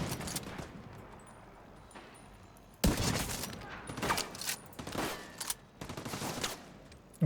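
Gunfire in a video game, repeated bursts of rapid shots with a loud cluster starting midway, close and punchy, over a low background rumble.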